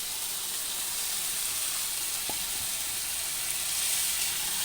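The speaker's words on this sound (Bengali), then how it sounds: "মশলাটা একটু কষিয়ে নিই, এখন চিকেনগুলো দিয়ে দেব।" Spice paste fries in a pan with chicken going in, a steady, bright sizzling hiss that stays even throughout, with one small clink partway through.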